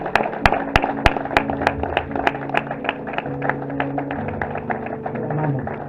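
Church congregation applauding, a few sharp individual claps standing out over sparse clapping and a humming, tonal background.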